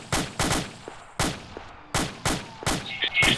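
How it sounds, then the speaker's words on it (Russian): Gunfire in ArmA 2 with the ACE mod: about seven sharp, loud, close shots in an uneven rhythm, each ending in a brief echoing tail, with no talk. "Стреляю примерно 250 метров, не знаю, попаду нет."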